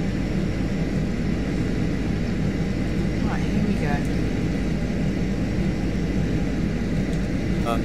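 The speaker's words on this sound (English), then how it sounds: "It's just a strange kind of landing noise." An Airbus A320 makes a loud, steady roar of engine and airflow on landing approach, with brief tonal chirps partway through and a voice talking over it.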